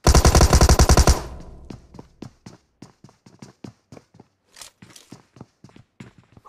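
Gunfire in a PUBG-style battle royale video game: a loud, rapid automatic burst up front, then a long string of sharper, spaced single shots and thuds, close and without talking.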